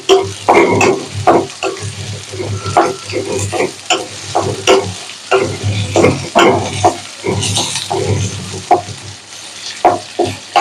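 Onions frying in a pan at home for a beef pulao dish, loud crackling sizzle broken by repeated scraping stirs in an uneven rhythm, with no talking.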